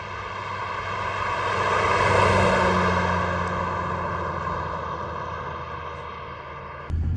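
A Subaru SVX's 3.3-liter boxer six engine hums steadily while driving, swelling louder then easing off into a sustained drone, with a brief click near the end.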